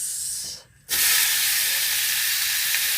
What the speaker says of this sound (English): Oh, sizzle. I'm going to turn that down.